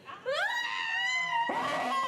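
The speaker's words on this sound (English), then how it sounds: "And then we hear a scream." A performer lets out a scream during an improv comedy scene on stage: a loud, high, wavering cry that starts abruptly, then breaks and surges again, close and alone.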